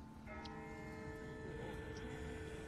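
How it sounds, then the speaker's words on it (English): Distant bell ringing in The Walking Dead video game, sustained tonal strikes hanging steadily over a low ambient background rather than close and loud. "That's not the same bell as before. This one's further off."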